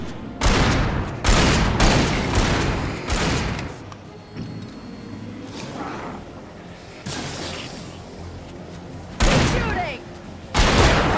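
Repeated loud gunshot bursts in the game Alan Wake, several sharp blasts spaced irregularly with reverberant tails, mixed with some game voices in between.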